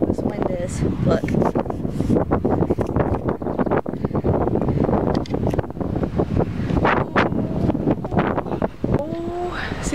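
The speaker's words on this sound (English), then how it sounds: "Show you exactly how strong this wind is." Strong gusty wind buffets a microphone outdoors, a loud continuous roar with rough rumbling bursts throughout, and a person speaks briefly near the end.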